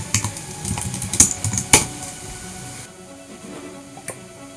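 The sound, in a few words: typing a password on a computer keyboard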